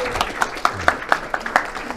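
Scattered, rhythmic clapping at a forum awards gathering as a speaker is welcomed, individual claps sharp and regular for about two seconds, fairly close.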